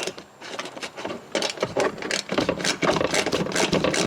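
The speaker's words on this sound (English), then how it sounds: "I'm going to use an 8mm socket to get off these two panel screws." An 8mm socket wrench removes panel screws on a Jeep JL Wrangler, giving quick, close ratcheting clicks in uneven bursts with brief pauses.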